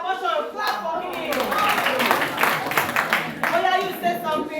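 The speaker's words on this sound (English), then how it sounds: "Clap for him." Group of listeners clapping for a speaker at a youth outreach talk on sexual health, a steady wash of many hands applauding for several seconds while voices chatter throughout.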